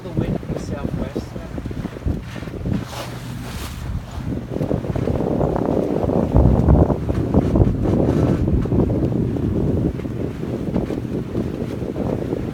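Southwest wind buffets a sailboat moving at over five knots on Lake Ontario, with steady wind roar on the microphone, rushing water along the hull and a voice speaking over it.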